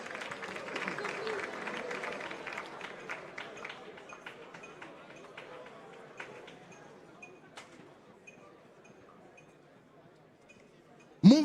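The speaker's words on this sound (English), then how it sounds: "A round of applause, a round of applause." An audience applauds at the NSMQ 2025 grand finale quiz event, a round of clapping that starts moderately loud and fades gradually toward quiet, ending with a brief sharp noise.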